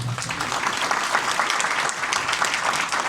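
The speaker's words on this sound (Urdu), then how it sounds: "آئیے پھر تالیاں بجائیے" A church congregation at a sermon gives a short burst of steady, dense applause, many hands clapping together at moderate loudness without a break.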